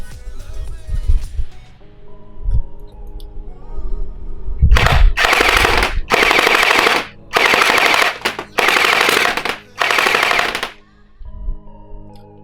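A UMP45 Gen8 gel blaster, loaded with heavier milky gel balls and run on a 7.4 volt battery, fires outdoors in five loud, rapid full-auto bursts with short gaps between them, after some quieter handling noise.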